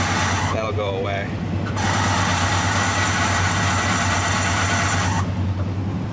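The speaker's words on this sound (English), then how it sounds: "Now it's really idling." A Chevy K10 pickup engine that sat unused for a year idles steadily and loudly up close, a constant low rumble with a band of hiss rising over part of the run.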